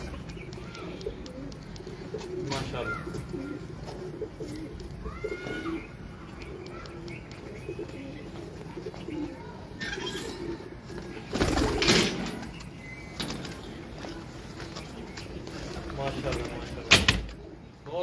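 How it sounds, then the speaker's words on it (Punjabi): Pure Sialkoti pigeons coo softly in the background, low and steady through most of the stretch, while someone talks over them with a few brief knocks and rustles. "ਲੇਕਿਨ ਇਹ ਪਿਓਰ ਸਿਆਲਕੋਟੀ ਕਬੂਤਰ।"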